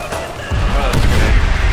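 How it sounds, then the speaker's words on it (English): A grenade goes off in Call of Duty: World at War co-op play, a loud close boom with a heavy low-end rumble that swells and lingers over the short span. "Ow, grenade got me."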